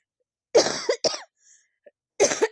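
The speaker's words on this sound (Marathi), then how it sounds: "खोकला" Three bursts of harsh coughing close to the mic, two quick ones together followed by a pause and a final cough, with a faint small noise between.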